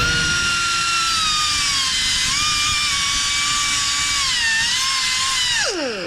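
A whizzer cut-off tool screams at high speed while cutting through a weld on the U-joint cap of a 1965 Mustang drive shaft, a loud, sustained whine that drops sharply in pitch as it winds down at the end.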